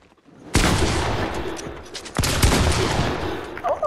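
Rapid bursts of video game gunfire, loud and dense, firing in sustained volleys with a brief pause near the middle before resuming.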